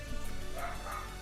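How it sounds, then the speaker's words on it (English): A dog barks indoors somewhere away from the microphone, a string of quiet, repeated woofs and yips over a constant background hum. "Sorry about my dog, I don't know what he's barking at."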